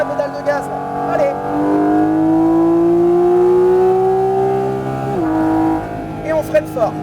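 A Porsche GT4 RS engine revs up hard with rising pitch, holding a loud, sustained acceleration note before easing back, while a voice speaks over it.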